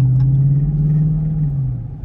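Dodge Charger Scat Pack cruising through city streets, a loud, close, steady low engine drone that eases off slightly toward the end, with no talk.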